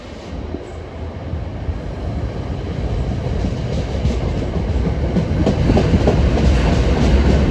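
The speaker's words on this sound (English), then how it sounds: "departing at 3:52 is train 1003 for Denville" NJ Transit train 1003 pulls out of Newark Broad Street station bound for Denville, a steady rumble with rhythmic wheel clatter that grows louder as it gathers speed.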